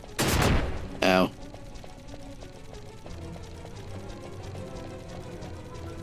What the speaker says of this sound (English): Well, at least I only set off one explosion trap that time.